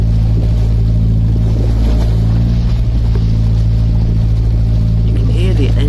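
A narrowboat engine drones loudly and continuously in rough sea waves crossing the Wash, under rushing water and wind, the throb shifting slightly as waves hit and the stern lifts from the water.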